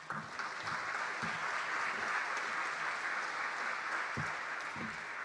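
A room full of people at an airport commission State of the Airport gathering applauds, a sustained, fairly even wash of clapping with a few louder claps near the end.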